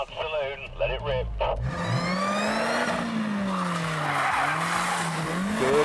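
A VW DSG-gearbox car launches hard in a drag race, engine note rising in a long sustained revving sweep with tyre squeal and skidding, loud and continuous after a short burst of voices at the start.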